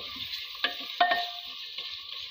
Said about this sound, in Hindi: मसाले को अच्छे से भुनेंगे